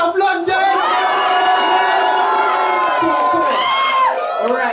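A dense crowd cheers and shouts at a live headlining show in a London pub venue, a loud, sustained roar of many voices with whoops rising and falling throughout.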